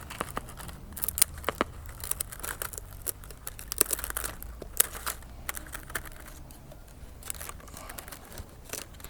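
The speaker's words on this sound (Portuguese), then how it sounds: "começa cortando as pontas das folhas primeiro" Bonsai scissors trim the dry leaf tips of a bromeliad (dyckia), giving a steady run of small, close snips and crisp rustling of stiff leaves over about nine seconds, with no talking.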